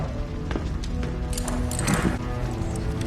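Horse hooves clip-clop at a steady walking rhythm in a Game of Thrones scene, mixed with background score and ambient sound.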